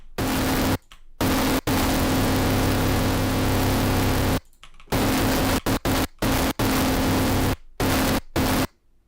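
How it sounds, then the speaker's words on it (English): A hard techno kick drum run through zero-square distortion plays as a loud, grinding wall of distorted low thump and hiss, cut into rhythmic bursts by short silent gaps, with no talking. "usually I like to use the 0 square distortion because this one really is made for hard techno"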